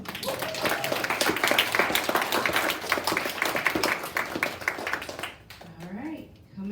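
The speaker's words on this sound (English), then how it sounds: "Let's give them another round of applause." A recital audience applauds an instructor-student duet at a 2020 summer recital, with dense, steady clapping for about five seconds under a talking voice before it fades out.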